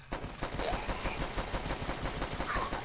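Rapid gunfire rattles continuously in the zombie game The Last Stand, dense automatic shots close and loud with no pause.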